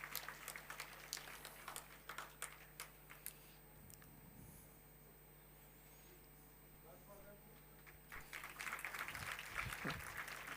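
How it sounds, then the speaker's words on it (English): An audience claps for the speakers at a youth convention, a faint, scattered patter of hands that fades out midway, then swells back louder and denser toward the end, with distant talk in the room. "A loud hand of claps to all of them."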